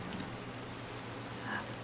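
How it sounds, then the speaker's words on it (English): Rain in the video game Skyrim: a steady, soft hiss of falling rain that stays even throughout, with a faint low hum beneath it. "So yeah, this is rain."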